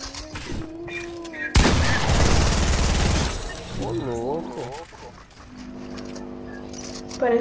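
A dense burst of rapid gunfire in the video game Fortnite erupts for about two seconds, loud and broadband, with a voice and electronic tones before and after.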